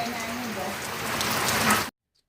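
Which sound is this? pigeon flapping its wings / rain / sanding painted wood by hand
rain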